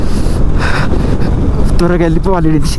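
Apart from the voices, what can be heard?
strong desert wind gusts during a motorcycle ride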